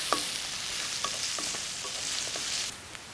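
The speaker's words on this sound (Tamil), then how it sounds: "வெங்காயம் நல்லா வதங்கிக்கிட்டு இருக்குது" Steady hiss of onions sizzling and frying in hot oil, with a few faint clinks of stirring near the start, no voices.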